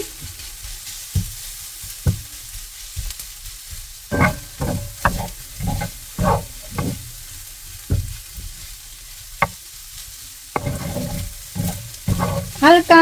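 Rice for kimchi fried rice frying in a pan, irregular scraping and pressing strokes over a soft sizzle, close by, with quieter gaps between bursts of stirring.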